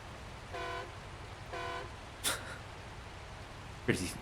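A truck horn in the video game SnowRunner gives two short, evenly spaced train-like blasts at moderate volume, followed by a couple of brief, sharp noises.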